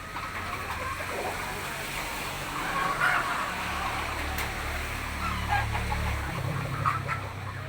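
Hens and a rooster in a small backyard coop give soft clucks over a constant outdoor hum, moderately close.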